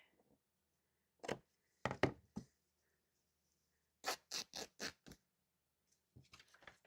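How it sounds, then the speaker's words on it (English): Scissors cutting through paper for a scrap journal cover, heard as a few short crisp snips in two quick bursts with a pause between, close and fairly quiet, with no talking. "we're going to cut this right here"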